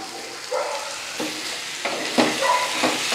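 Mango pickle sizzles in hot oil in a small pan while a utensil scrapes and stirs in several distinct strokes, close up with no talking.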